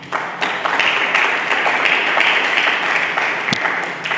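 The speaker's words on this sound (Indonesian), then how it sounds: "Mari kita sambut dengan tepuk tangan." A church congregation claps and applauds to welcome a sermon, a dense, sustained round of clapping filling the hall from start to finish.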